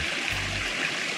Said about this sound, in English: Long flowing stream.